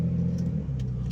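Ford F150 pickup with true dual catback straight-pipe exhaust, a steady low rumble of the engine idling or cruising at low revs.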